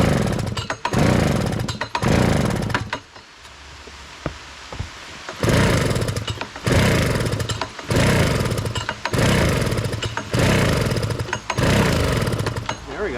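A late 1990s Honda Harmony lawn tractor engine runs off choke, its loud close drone surging and dipping in a steady rhythm of uneven bursts with one brief lull near the start.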